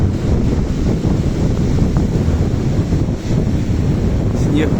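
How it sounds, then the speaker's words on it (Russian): Strong, cold wind blasts across a stormy sea at Divnomorsk, a steady loud roar of gusts over the microphone with waves churning underneath throughout. "Сильнейший ветер, холодный."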